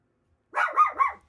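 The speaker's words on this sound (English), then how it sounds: "What are you barking?" A dog in a garage lets out a quick burst of three close, sharp barks that run together, with silence before and after.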